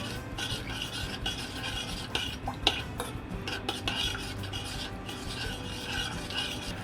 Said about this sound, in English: Heat until boiling, stirring to make sure the sugar has dissolved.